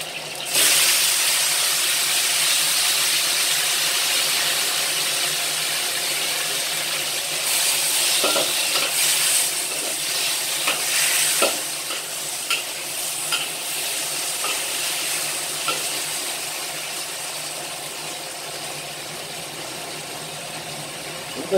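Tomatoes stir-frying in a pan with a teaspoon of minced garlic over medium-low heat, steady close sizzle throughout with scattered scraping and stirring knocks from a spatula, no talking.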